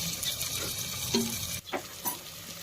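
Tomatoes drop into browned onions frying for a mutton gravy. A steady sizzle plays first, then a sharp drop and a couple of short clattering stirs as the pan's sound changes.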